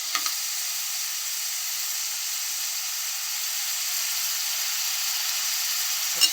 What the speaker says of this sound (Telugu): సాల్ట్ వేస్తే తొందరగా ఉల్లిపాయలు ఫ్రై అవుతాయి.